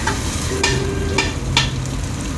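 Maggi noodles stir-fried with spices in a pan, a steady low sizzle with a few brief stirring scrapes and clatters spaced about half a second apart.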